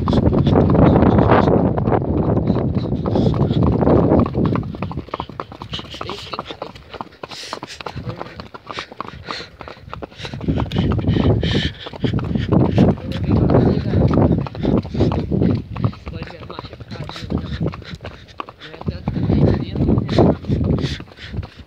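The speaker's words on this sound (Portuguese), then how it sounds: "Aproveitamos e arranjamos um capacete lá pra ouvir os cavalos." Horse hooves clip-clop in a steady walking gait during a town ride on horseback, with wind buffeting the microphone and people talking at times.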